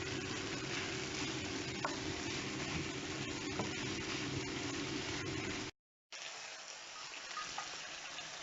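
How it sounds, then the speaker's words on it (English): Peppers and mushrooms fry in a pan with chicken, giving a steady loud sizzle that cuts out briefly and then resumes slightly quieter. "we're going to add in the peppers and the mushrooms now and fry that off for another about 2"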